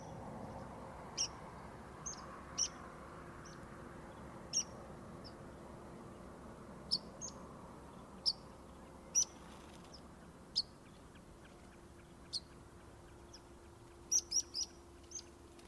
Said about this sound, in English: Meadow Pipit, Teeting,